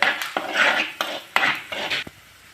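Metal spoon stirring and scraping in a pan while sautéing for a spicy Kerala fish curry, close and loud in several bursts of clinking and scraping with short pauses between.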